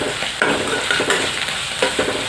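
Fish with potatoes, turmeric and salt being stirred in a hot pan, a steady sizzle broken by repeated scraping strokes of a spoon at close range, no voices.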